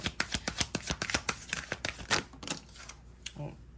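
A deck of tarot cards is shuffled close up, a rapid run of crisp flicking and riffling snaps that trail off into softer card handling, with brief talk near the end.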